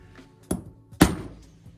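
A key machine stamps a number into a new key: two sharp metallic thunks about half a second apart, close and clear against a quiet background.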